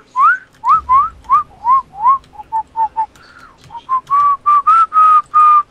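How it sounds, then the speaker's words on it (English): A loud, close whistled series rises in pitch with short chirps at first, then holds longer steady notes toward the end, heard amid Battlefield: Bad Company 2 multiplayer play with no talk. "The whistling."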